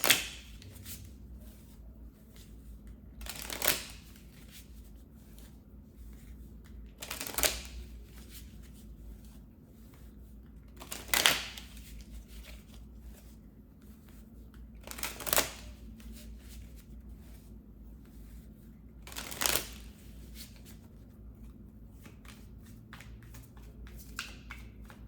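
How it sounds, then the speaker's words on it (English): Crystal oracle cards are shuffled and pulled in a quiet room, giving soft papery riffles and flicks with five or six sharper slaps spaced roughly every four seconds, close and gentle, with no talk. "Let's pull some crystal cards."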